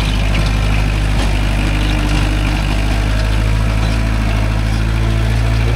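A Kubota MU4501 45hp tractor engine runs steadily in a coconut grove, a deep, continuous idle-like drone that stays loud and close throughout with no speech.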